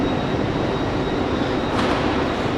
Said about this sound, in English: So I'm going to get this LNER train